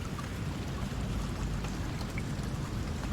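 Straight-down rain in the Deadliest Catch game, a steady dense hiss at moderate level with a low rumble underneath and no talk.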